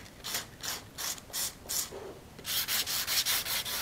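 Edges of a chalk-painted piece painted blue underneath are sanded by hand in quick rhythmic rasping strokes, a slower run of scrubbing passes followed by a faster burst, close and alone.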